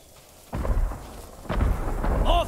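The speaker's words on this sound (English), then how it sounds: "More fireworks! On all sides!" Fireworks exploding in the Ghost of Tsushima Director's Cut video game on Iki Island, two deep booming blasts about a second apart, loud and rumbling, followed by a short rising whistle.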